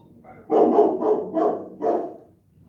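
A dog barks four times in quick succession at close range, each bark loud and full, with brief quiet gaps between and no talking over them.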